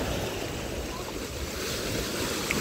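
Sea waves rolling onto a beach on a choppy day, a steady broadband wash of surf with wind rumble, continuous and fairly close with no distinct breaks between swells.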